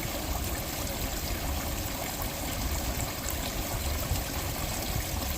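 Water trickling and splashing steadily down a small rocky waterfall outdoors, a constant broadband rush close by with no pauses and no voices.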